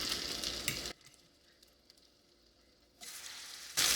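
Egg-dipped French toast sizzles and fries in a pan, a steady bright crackle that drops away for about two seconds, then resumes loudly with no talking.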